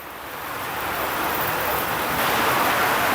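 Heavy rain pours down in a dense, loud, continuous hiss that swells slightly and holds steady with no voices.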